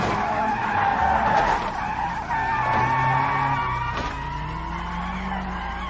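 Cars in BeamNG.drive skid and crash at an intersection, with a long, loud tire squeal, sliding rubber and engine noise rising and falling, plus a sharp impact thump partway through.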